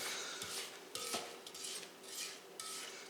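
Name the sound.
spatula scraping down a mixing bowl of cookie dough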